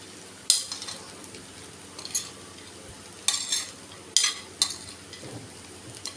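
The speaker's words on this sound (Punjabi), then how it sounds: "ਚੰਗੀ ਤਰ੍ਹਾਂ ਨਾਲ ਆਪਾਂ ਇਹਨੂੰ ਮਿਕਸ ਕਰ ਲੈਣਾ" A spoon stirs poha with fried dry fruits in a pan, making scattered scraping strokes and clinks against the metal, each a short rustling burst with quiet gaps between, no talking.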